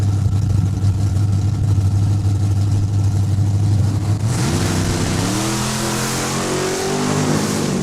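Two Camaros at a drag race launch at Saskatchewan International Raceway, engines idling loudly before revving hard and climbing in pitch as they pull away.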